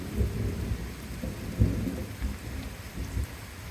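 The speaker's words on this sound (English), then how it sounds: "If you look over there, it's really rainy." Heavy rain pouring steadily through a close, dangerous thunderstorm, with low rumbles of thunder swelling and fading beneath the constant downpour.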